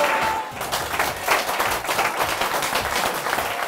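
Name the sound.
audience applause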